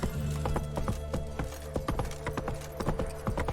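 Roach, a horse in The Witcher 3, trots along with steady, close clip-clopping hooves in a brisk repeating rhythm over a low ambient background, with no talking.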